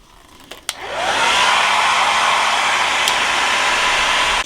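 A hair dryer clicks on and rises to a loud, steady close-up whoosh while drying freshly painted model railroad pieces, running continuously to the end with no talking.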